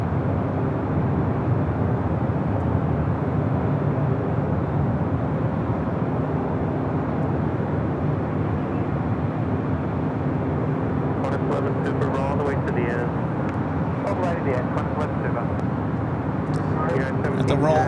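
Airliner rolling down runway 24 right at LAX, a steady, distant engine roar and rumble lasting throughout, with faint clicking and chatter creeping in toward the end.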